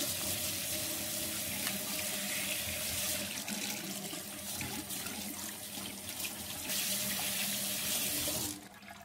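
A tap runs steadily over a washing machine drain pump filter as it is rinsed in a sink. The water splashes and gushes continuously, surging louder at moments, then cuts off near the end.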